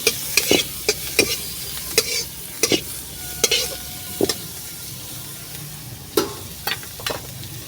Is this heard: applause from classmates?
no